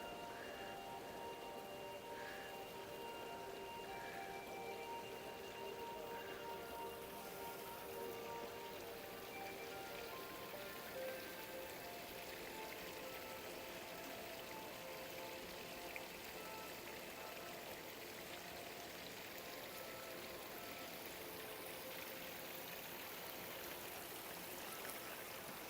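A waterfall in the Namba Parks rooftop garden rushes in a steady, broadband wash of falling water, constant and moderately distant, with faint tonal hums from the surroundings and no voices.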